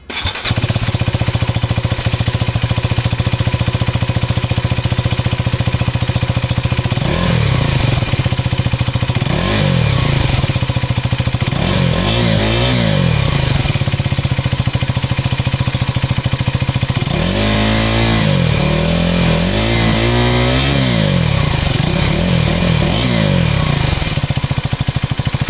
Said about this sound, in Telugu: ఈ బైక్లో ఎగ్జాస్ట్ నోట్ ఎలా ఉంటుంది అనేది మనం ఒకసారి ఎక్స్ప్లోర్ చేసి చూద్దాం.